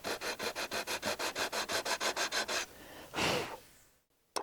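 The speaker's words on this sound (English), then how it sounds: "now I'm just sanding it with the block" Sanding block rubbed back and forth over a wooden cabinet door bevel in about fifteen quick, even strokes, close and crisp, followed by a soft breath and a short knock.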